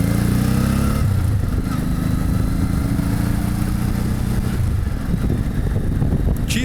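Motorcycle being ridden for the first time after winter storage, a steady mid-pitched engine drone with a gear or speed change around one second and again near five seconds, close and continuous.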